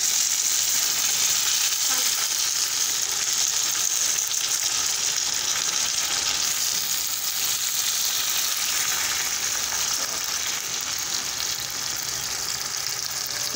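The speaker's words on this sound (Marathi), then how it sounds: "आलू मॅश करायच्या साहाय्याने मस्त आपण टमाटे बारीक करून घेऊ" Tomatoes are crushed with a potato masher in a hot pan, a loud continuous sizzle and frying hiss filling the whole stretch with little else above it.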